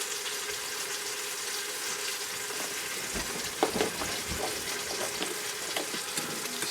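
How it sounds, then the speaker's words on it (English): Dried thyme and tomato paste stirred in a pressure cooker pot for beef brisket: a steady frying hiss throughout, with a few scraping spoon strokes partway through. "Stir that up."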